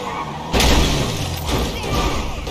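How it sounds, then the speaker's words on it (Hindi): A car slams into something in the video game GTA 5: a sudden loud crash with a shattering burst about half a second in, then a rough rumbling engine noise that carries on steadily. "ऐसे ठुकती है ना गाड़ी रियलिटी में तब जब लगती है भाई बहुत ही दुख होता है"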